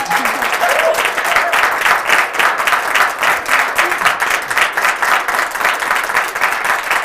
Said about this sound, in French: il s'est fait accompagner par un comité scientifique qui est juste derrière moi, qu'on va applaudir